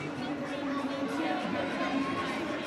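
A crowd at a 2018 Central Regional men's fitness competition event fills the space with a steady, distant roar of cheering and chatter, and voices rise and fall within the noise.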